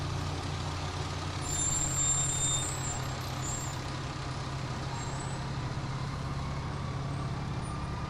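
A bus rolls by at the tail of a St. Patrick's Day parade in Buchanan, a steady low engine drone with a hiss of air brakes and faint high beeps, heard outdoors at moderate distance.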